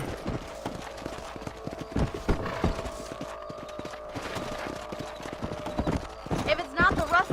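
Horses ridden across a ranch property in Red Dead Redemption, with quick, rhythmic hoofbeats clopping close and clear throughout, a snort or whinny near the end, and people talking over the riding.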